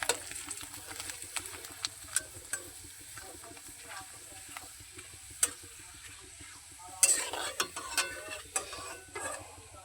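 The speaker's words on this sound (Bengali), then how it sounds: "এরকমভাবে পাঁপড়গুলো আমি ভেজে তুলে নেবো সবগুলো।" Broken papad pieces frying in oil, a quiet continuous sizzle with frequent sharp scrapes and taps of a stirring utensil against the pan, a few louder clatters near the end.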